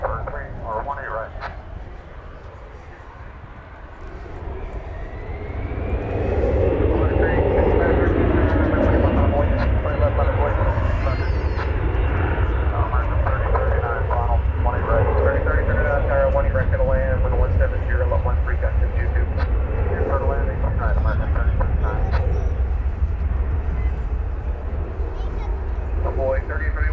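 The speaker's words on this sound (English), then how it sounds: "It's an Airbus A321. It's going to Las Vegas." An Airbus A321 jet rumbles at DFW Airport, its engine roar swelling and holding steady while radio voices talk over it.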